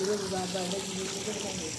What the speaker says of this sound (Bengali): এই যে দেখেন এই যে পানি বার হইতেছে